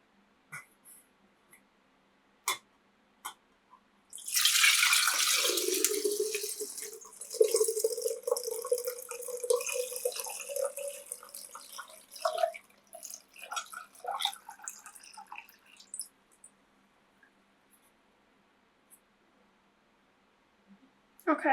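Strained homemade fire cider poured into a jar, a sustained splashing gush that thins into trickles and scattered drips, close up with a few small clinks before and after.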